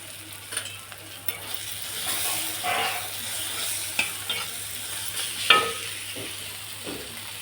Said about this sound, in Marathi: कांदा मस्त छान फ्राय झाला, तेल सुटलं, टमाटाही नरम झाला तर त्याच्यात टाकतो आपल्याला लाल मसाला